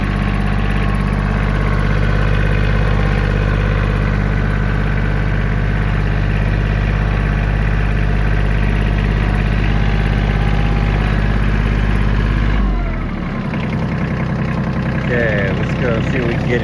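A Kioti CK27 compact tractor engine runs steadily at a loud, close idle-like drone, its low rumble shifting and dropping noticeably near the end as gears change, with a voice talking over it.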